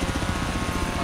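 A helicopter in the video game Forza Horizon 3 gives a steady, fast rotor thump under a broad engine roar, heard briefly at moderate level with no talking.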